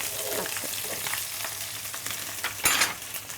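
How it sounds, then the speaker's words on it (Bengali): Onions sizzle and fry in a hot pan for a khichuri dish, a steady close crackle with stirring scrapes and a brief louder burst of spatter near the end, no talking. "এখন আমি দিয়ে দিচ্ছি পেঁয়াজ।"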